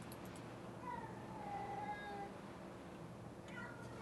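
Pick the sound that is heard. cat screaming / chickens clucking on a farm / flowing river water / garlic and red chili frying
cat screaming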